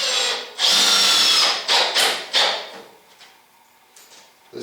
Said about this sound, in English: I'm going to back this screw out, send it back down and see if I can get it countersunk.